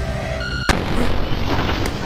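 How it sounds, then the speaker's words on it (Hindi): Bomb blast in the video game Buckshot Roulette: a held electronic tone cuts off into one sharp, loud boom followed by a sustained dense rumble and a second fainter thump. "प्लीज बम निकल"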